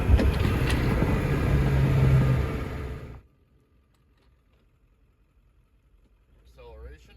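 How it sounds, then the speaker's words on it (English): A 7.3 Powerstroke diesel truck fitted with a Riff Raff exhaust cruises at about 60 with a loud, steady rumble for about three seconds, then cuts to near silence before faint sound returns. "Currently going around 60, just cruising here, and I notice a significant difference in noise while driving."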